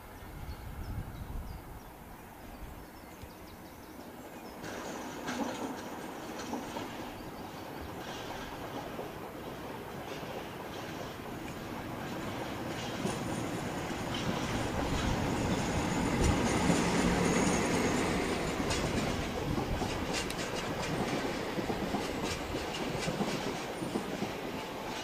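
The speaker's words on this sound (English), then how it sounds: "Hired in DCR Loco 56091 heads Colas Rail's recently introduced 6M44 empty bitumen tank service from Preston to Port Clarence." DCR class 56 locomotive 56091 hauls an empty bitumen tank train from Preston to Port Clarence, a steady rolling rumble with clickety-clack of wagon wheels and occasional squeal, growing louder midway and continuing throughout.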